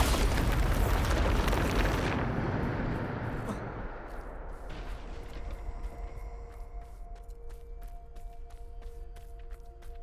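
Bombarda spell explosion in Hogwarts Legacy, a loud roaring blast that fills the opening seconds and then decays into a rumbling tail scattered with crackling debris and faint tonal game effects.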